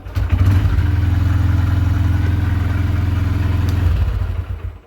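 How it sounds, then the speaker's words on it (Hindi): A Honda Hornet 125 motorcycle engine catches and settles into a steady, smooth idle close by. The low rumble runs evenly for about three and a half seconds, then drops off, with no voices. "जब ये गाड़ी स्टार्ट होती है ना तो बिल्कुल प्यारी तरीके से स्टार्ट होती है"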